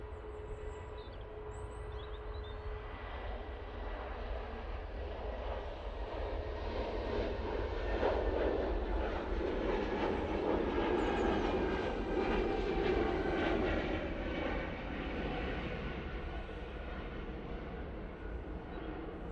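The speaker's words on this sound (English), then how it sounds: "Lufthansa. What's like a 320 Neo? Going off to Frankfurt, I presume." A Lufthansa Airbus A320neo jet bound for Frankfurt passes with a rising and fading engine roar and a faint whine, heard from a distance with no talk.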